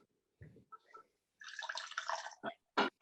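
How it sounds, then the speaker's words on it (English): A drink sloshes as it is shaken, then pours out in short splashing bursts, close and fairly quiet after a few brief sounds. "And then you shake it, and then you pour it out."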